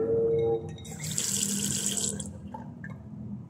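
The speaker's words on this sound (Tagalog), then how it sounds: "Ayan bukas ang tubig." Water gushes steadily from an open faucet in a boys' restroom, a loud continuous hiss and splash running the whole time with no one speaking.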